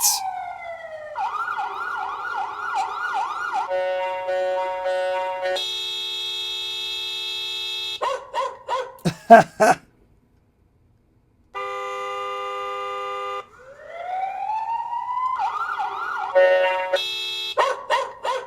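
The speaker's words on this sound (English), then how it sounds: "A siren." Electronic siren tones from a mini RC car sound module cycle through several patterns: wailing sweeps, steady blaring tones and quick yelps, loud and synthetic, with a short silent gap midway.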